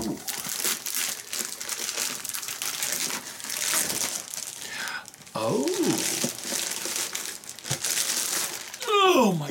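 Packaging on a prototype box crinkles and rustles close up as it is opened, with continuous crumpling and some tearing, while voices speak at times.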